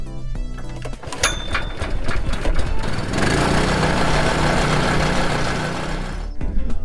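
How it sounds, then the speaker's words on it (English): A Billy Goat overseeder engine runs close and loud after a hot start on a lawn, with a continuous busy mechanical drone that grows rougher and denser partway through; no one speaks. "We're going to do this engine's warm, so we're going to do a hot start"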